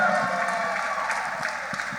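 Audience applause at a panel discussion, scattered claps close by blending into a broad crowd wash, with a voice talking over it.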